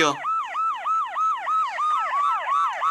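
A police car siren in a video game wails in fast, regular up-and-down sweeps, loud and close, repeating steadily throughout with no voices.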